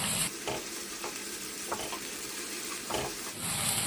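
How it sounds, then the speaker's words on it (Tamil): Ginger garlic paste sizzling and frying in hot oil, a steady crackling hiss with a few sharp stirring clinks and scrapes from a utensil. "இஞ்சி பூண்டு பேஸ்ட்டை சேர்த்து ஒரு 2 நிமிஷத்துக்கு நல்லா எண்ணெயில் வதக்கிக்கிறோம்."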